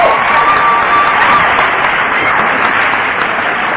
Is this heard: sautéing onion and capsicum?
no